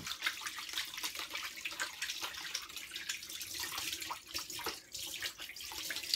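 Cleaned squid is rinsed under a running kitchen tap, a continuous nearby splash of water into a sink with small shifts as the squid is moved under the stream.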